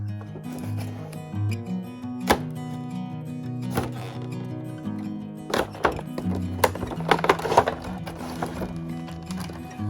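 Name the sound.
opening action figure packaging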